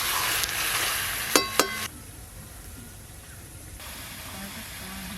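Chicken with spices is stirred in a pan, a steady frying sizzle with two sharp clinks from a utensil early on before the sound drops to a quieter simmering hiss.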